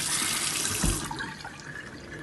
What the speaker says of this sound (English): Going to rinse it out, all the water, nice squeeze